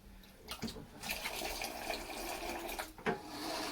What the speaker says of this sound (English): you could add a bit of cold water to the top first, like this.